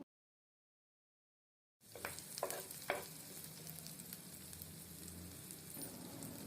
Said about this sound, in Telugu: అదే పాన్లో టేబుల్ స్పూన్ ఆయిల్ వేసి వేడెక్కాక మునగాకు ఫ్రై చేయండి